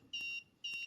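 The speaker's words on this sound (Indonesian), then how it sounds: "buzzernya di sini akan menyala dan untuk LCD-nya di sini akan marah dan ada tulisan kembali kerja" An electronic buzzer on a student-built distraction detector with a camera and an LCD gives two short, clean, high-pitched beeps in quick succession, close and fairly loud, with no talking.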